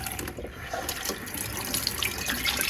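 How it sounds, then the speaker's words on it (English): Tap water runs steadily into a kitchen sink as eggplants for eggplant Parmesan are rinsed, a continuous close splashing hiss with no talking. "I'm gonna wash the eggplant. Just gonna rinse them off first"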